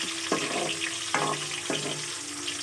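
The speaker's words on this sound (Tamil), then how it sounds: "நல்லா வதக்கிக்கலாம்." Ingredients for a village-style kizhichi fish curry sautéing in a pan, a steady close sizzle with three scraping stir strokes at even intervals and no talking.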